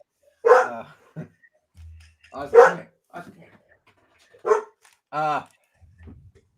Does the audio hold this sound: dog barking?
yes